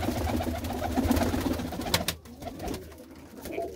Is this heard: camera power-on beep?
no